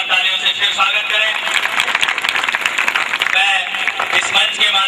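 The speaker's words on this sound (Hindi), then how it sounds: "एक बार जोरदार तालियों से फिर स्वागत करें।" An audience at an anniversary gathering at a Kenya gurukul applauds, with dense sustained clapping and crowd noise filling the stretch, loud and close.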